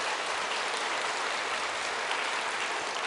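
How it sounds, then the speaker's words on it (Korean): A church congregation applauds to welcome visiting guests, including an orchestra and young people; even, sustained clapping in a large room, fairly soft and continuous. "우리 박수로 한번 환영하겠습니다"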